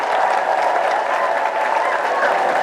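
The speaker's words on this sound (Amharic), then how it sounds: "አጨብጭቡና ለጌታ ክብር አስገቡ፣ ክብር አስገቡ።" A church congregation claps in praise during a preaching service, a dense, continuous wash of many hands applauding loudly and steadily throughout.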